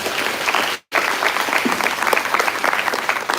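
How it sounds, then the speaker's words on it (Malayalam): An audience at a school event in Kerala claps loudly in dense, sustained applause, cut by a brief silent gap before the clapping resumes and carries on strongly. "ഈ ഒരു കയ്യടി നിങ്ങൾക്കുള്ളതാണ്."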